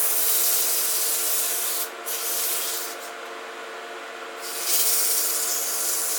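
Wood lathe turning a three-ply laminated bowl with a chisel: a steady, close, broadband scraping hiss that dips briefly and then swells again, with no talking.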